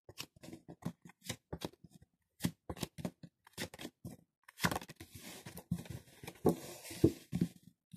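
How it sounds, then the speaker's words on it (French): Tarot cards are spread across a table and drawn one by one: close, dry slides and sharp flicks come in quick irregular bursts, then a denser run of rustling and tapping toward the end, with no one talking. "J'étale les cartes. Je vais en prendre 5."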